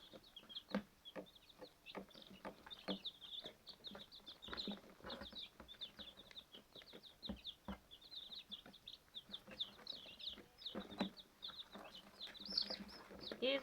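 Young chicks in a heated, lit brooder keep up a stream of faint, high, rapid peeping chirps, overlapping and irregular throughout.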